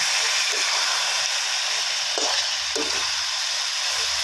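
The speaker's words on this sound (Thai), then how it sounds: "ใส่เครื่องปรุงเลยครับซีอิ๊วขาวซอสปรุงรสน้ำมันหอยนะครับ ใส่ลงไปนะครับ ผัดให้หอมเลยนะครับ" Spices hiss and sizzle steadily in a hot pan as soy sauce, seasoning sauce and oyster sauce are stir-fried in, while preparing braised pork belly with duck eggs. The frying noise is constant and close, with a few scraping stir strokes.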